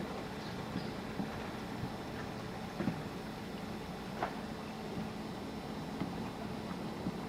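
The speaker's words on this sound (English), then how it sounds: "That guy's relocating boats, making room for another houseboat." A boat moves slowly across the water near a houseboat marina, giving a continuous low engine drone and water wash at moderate distance with a few faint knocks, no voices.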